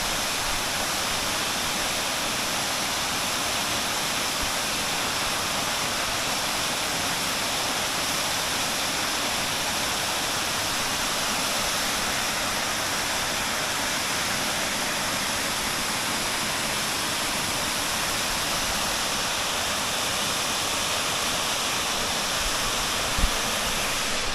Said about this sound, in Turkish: İşte şelale tam olarak böyle.